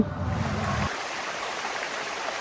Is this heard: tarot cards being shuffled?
no